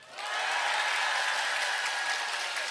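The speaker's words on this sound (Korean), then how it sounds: "박수를 치고 환호를 지르고" Steady, dense applause from a large audience fills the whole stretch at an even level, a continuous wash of clapping with no voices standing out.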